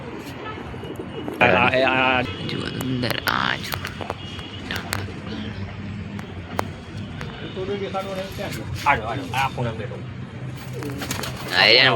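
Pigeons coo softly in the background while someone talks close by, with occasional fluttering and scuffling sounds.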